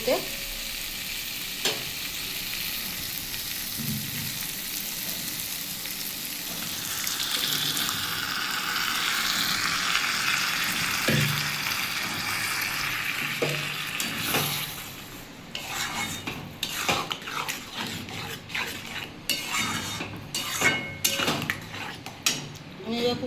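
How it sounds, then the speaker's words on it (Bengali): Boiled moong dal goes into a pan of frying radish in a Bengali kitchen, and a steady sizzle is stirred with a spoon. It builds midway, then gives way to scraping, clinking stirs and utensil knocks. "আমি এবার সেদ্ধ করা ডালটা দিয়ে দেবো"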